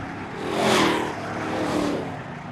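Sport trucks race past on the Seekonk Speedway oval, engines roaring in a rising and falling sweep as one passes close and another follows, loud and continuous.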